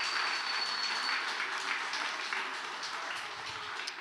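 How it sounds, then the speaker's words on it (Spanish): An audience claps at a Spanish-language church presentation about mothers, a moderately loud, continuous patter of applause that gradually thins toward the close. "Un aplauso."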